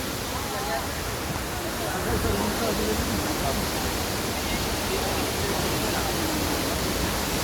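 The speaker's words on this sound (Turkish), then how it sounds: "Şelale görüyorsunuz." The Kapuzbaşı waterfall in Kayseri roars as a steady, dense rush of falling water, loud and continuous throughout, with faint voices indistinct beneath it.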